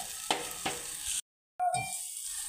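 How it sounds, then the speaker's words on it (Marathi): Chopped onion fries in a pan with turmeric and chili powder, giving a close, steady sizzle with a few stirring scrapes and a short silent gap before the frying sound picks up again. "चटणी चांगली भाजून द्यायच्या कांद्याला"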